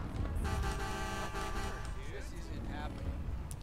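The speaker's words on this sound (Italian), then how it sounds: "Oh mio Dio, ho un clacson" A car horn honks in GTA 5 among steady game traffic, with sustained tonal blasts over the first second and a half and fainter horn-like tones later, all under continuous engine and street noise.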